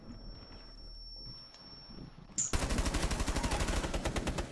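Automatic gunfire in the video game Rainbow Six Siege breaks out suddenly after a quiet stretch, a loud, continuous rapid burst of shots that lasts to the end.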